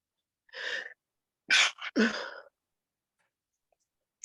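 Three quick sneezes in a row, sharp and close, after a brief pause, then near silence.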